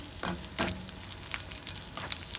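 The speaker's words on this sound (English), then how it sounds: "So next thing, I added the dates. So we have to fry that too a little bit. You just have to stir this in between" Dates fry gently in a pan for a sweet and spicy inchi curry, a low steady sizzle with a few scraping stirs and light spoon taps.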